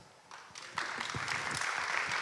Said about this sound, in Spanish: No hace falta que aplaudamos en todas las intervenciones si no queréis